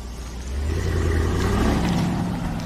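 A Mercedes S 63 AMG heard from outside on a Hamburg street, its engine swelling into a steady loud roar after half a second and holding close and strong before easing slightly, with no voices.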